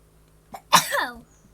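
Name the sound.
sneeze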